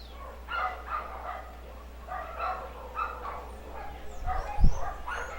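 Dogs barking outside, a run of moderate, rhythmic barks at some distance with a sharper, louder burst near the end, over a steady low hum.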